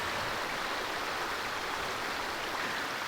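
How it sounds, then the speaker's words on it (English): A river on the Isle of Skye in Scotland rushes steadily nearby, a continuous broad roar of flowing water with no breaks and no voices. "I can hear a river chiming away just over there"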